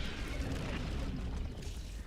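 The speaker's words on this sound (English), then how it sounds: "Orbital strike incoming." An orbital strike detonates in Helldivers 2, a dense, sustained rumbling blast with heavy low-end roar and crackling debris filling the whole moment, loud and continuous with no talk over it.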